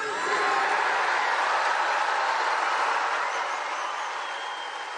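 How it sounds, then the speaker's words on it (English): A crowd at a political rally breaks into a loud, sustained wash of applause and cheering that holds steady and fades slightly toward the end. "And the crowd went wild"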